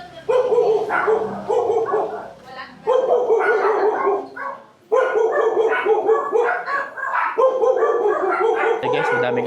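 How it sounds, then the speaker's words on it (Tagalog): A pack of dogs barks insistently along the Nambalan River in Mayantoc, Tarlac, with loud, overlapping yaps and yips in near-continuous volleys broken by brief pauses, close to the listener. "Hey guys, madaming aso. Baka makagat tayo eh."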